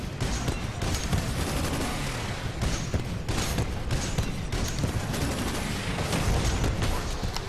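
Continuous heavy gunfire and rocket blasts in the Titanfall 2 video game during a Blood and Rust mission, a dense, loud, unbroken barrage with sharp repeated impacts throughout.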